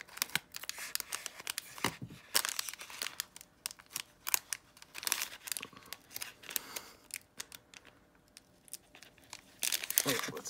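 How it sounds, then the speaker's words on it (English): Several quick snips of scissors cutting through a crinkly cello-wrapped football card pack, with rustling and tearing between cuts and a voice speaking quietly in between. "I have the scissors right here to open the pack."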